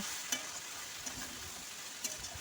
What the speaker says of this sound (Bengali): সব কিছু একসঙ্গে দিয়ে খুব ভালো করে কিন্তু কষিয়ে নেব।